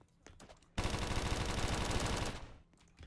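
Rapid automatic gunfire in the Da Hood video game, a dense, loud burst of about one and a half seconds after a few light clicks, then cutting off.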